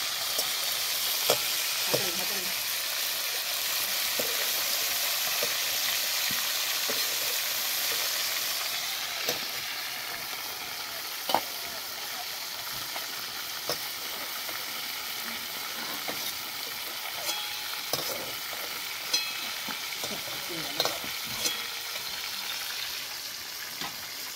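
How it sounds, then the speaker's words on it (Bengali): Cauliflower pieces frying red in oil, a steady crackling sizzle throughout with scattered sharp pops and occasional stirring scrapes, close and unbroken. "এইরকমভাবে লাল লাল করে ফুলকপিটা ভেজে নিলাম।"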